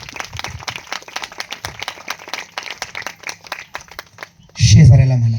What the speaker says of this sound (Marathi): जरा देवासाठी टाळी वाजवूया सगळीजण.